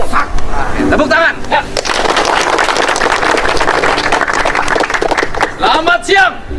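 A crowd of people assembled in formation at an outdoor gathering bursts into loud, rapid applause lasting several seconds, with shouting voices at the start and end.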